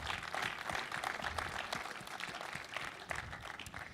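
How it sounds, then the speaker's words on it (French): Audience clapping at the closing ceremony of a short film festival after a best-film award, a dense, lively round of applause from a room full of people that tapers slightly toward the end. "On peut l'applaudir."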